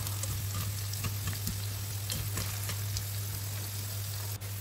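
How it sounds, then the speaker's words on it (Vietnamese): Slices of eggplant sizzle as they fry in oil in a pan for a vegetarian ragout. The crackling and spitting is steady and moderately quiet, with no talking. "Cà gót thì mình chiên nó vừa vàng tới như gì thì được"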